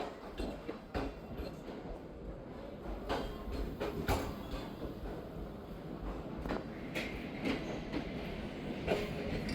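Passenger train on the Zakariya Express, an AG30 locomotive hauling economy, AC business and AC standard coaches, rolls through a station with a steady, fairly close rumble and clickety-clack of wheels, marked by several sharp metallic clanks, no talking.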